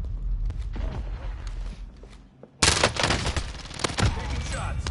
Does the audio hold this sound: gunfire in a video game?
yes